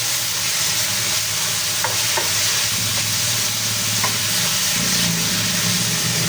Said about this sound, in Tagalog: lagyan na po natin ng ating tomato paste